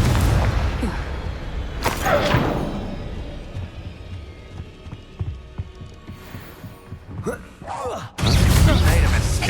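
Booming spell blasts from combat in Hogwarts Legacy, a few loud bursts with a heavy low rumble, the last striking suddenly and strongly near the end amid continuous battle noise.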